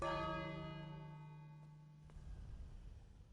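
A bell in the video game King's Quest strikes once, a loud resonant clang that rings out and slowly decays over a few seconds before giving way to faint background noise.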